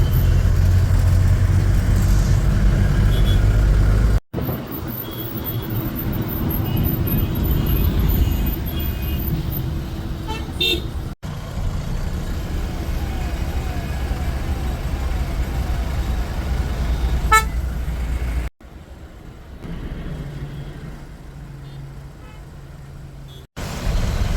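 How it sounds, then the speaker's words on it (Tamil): Heavy night traffic on the Hyderabad ring road, heard from a lorry, with a dense steady roar of engines and passing vehicles broken by abrupt cuts. "நைட் எட்டரை மணிக்கு நைஸ் ரோட்டில் பாருங்கள் எவ்வளோ டிராஃபிக்குன்னு"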